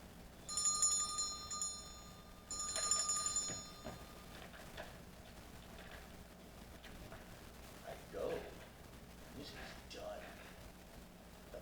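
A bell rings in two bright bursts near the start during a stage performance of Macbeth, then fades into a quiet room with faint voices.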